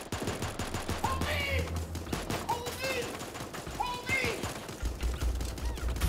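Automatic weapon fire in Super Animal Royale, rapid sprays of shots rattling in bursts amid game effects and chirpy tones, moderately loud, with a player talking over it.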